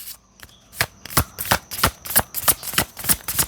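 Cards being shuffled close up: a rapid, fairly regular series of crisp slaps and flicks, about a dozen, with no voices.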